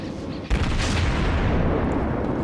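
Naval guns booming in World of Warships, a sharp blast landing about half a second in, then a dense, continuous rumble of gunfire and battle noise that stays loud throughout.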